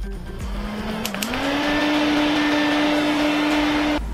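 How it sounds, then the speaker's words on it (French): A small electric fan whirs up to speed, its motor pitch rising briefly before settling into a steady, fairly loud hum and then cutting off; it is used to dry false eyelash glue. "je prends mon petit ventilateur et je le fais sécher plus rapidement comme ça"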